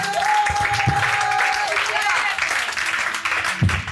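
An Ivorian church congregation claps together in steady, dense applause that runs the whole time, mixed with a voice and sustained musical tones.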